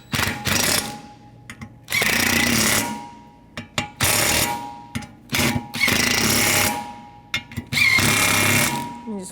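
An impact or air tool spins a 13mm socket onto the radiator fan clutch bolts of a 1997-2004 Dodge Dakota, firing in repeated short rattling bursts separated by pauses, close and loud.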